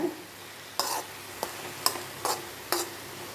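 Spinach thoran being stirred in a pan while it fries, with grated coconut sprinkled in; five separate scraping strokes of a spoon against the pan, the first around 0.8 s, over a soft, steady sizzle.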